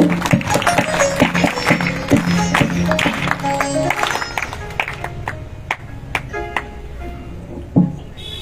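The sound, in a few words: audience clapping during satsang aarti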